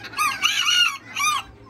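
An Azteca Old English cross bantam rooster, BB Red, crows nearby in two strained, raspy bursts, a long call followed by a shorter one, with no talk over it.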